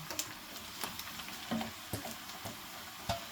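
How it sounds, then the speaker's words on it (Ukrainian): Steady frying sizzle of onion and carrot in a pan, with intermittent clinks and scrapes of stirring spread through; no talking. "І разом з морковкою ще буду смажити"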